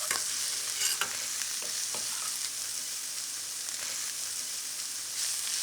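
Lemongrass sizzles as it is sautéed in a pan with onions, a steady bright hiss that continues throughout, with a few soft stirring scrapes up close.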